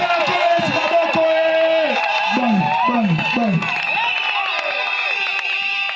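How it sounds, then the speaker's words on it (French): A church congregation cheers loudly for Jesus Christ, with many voices shouting and whooping together over sustained music, the crowd noise steady and energetic throughout. "Acclamez fort pour le Seigneur Jésus-Christ."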